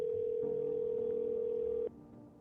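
A steady telephone dial tone in the video game No, I'm Not A Human hums alone for about two seconds, then cuts off abruptly, leaving faint room noise.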